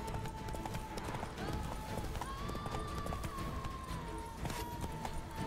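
Horse hooves clip-clopping at a gallop in the video game The Witcher 3: Blood and Wine, a steady fast rhythm over game music and ambience, with someone talking over it.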